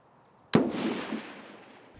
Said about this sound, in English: I think he's shooting across to the yard on the opposite side